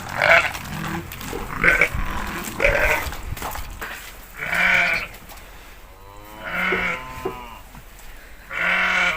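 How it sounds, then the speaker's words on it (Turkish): Newborn lambs bleat repeatedly on a muddy farm in rain and snow season, several wavering calls close by, one after another with short pauses between them, no talking. "bunlar e, yeni kuzularımız bu senenin kuzuları"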